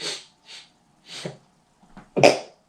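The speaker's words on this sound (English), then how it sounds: "It ain't COVID, it's just a sneeze." A single loud sneeze close to the microphone, preceded by a few sharp breaths and sniffs, heard alone without talk.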